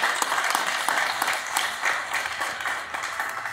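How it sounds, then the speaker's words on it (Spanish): Warm, steady applause from an audience at a diocesan seminary raffle award ceremony honouring the parish and its priest, continuous and moderately loud with no talk over it. "Un aplauso fuerte"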